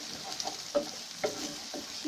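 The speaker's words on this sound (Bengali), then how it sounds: "এখন আমরা সুন্দর করে দিয়ে কুচি কুচি করে লেড়ে দেব, যেন এটা মিক্স হয়ে যায়" Spatula scraping and stirring a spiced beaten egg mixture in a pan for noodles, a few soft clinks and scrapes over a faint steady sizzle, close by.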